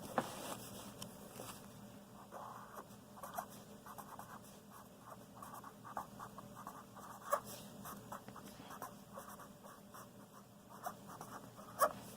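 Handwriting during a fractions lesson: faint, quiet pen or marker strokes scratching in short irregular bursts over a soft background, with no talking.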